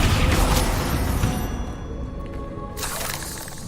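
Descendo spell slamming down in the video game Hogwarts Legacy, a heavy booming crash at the start that fades into a rumbling tail, with a second lighter burst near the end.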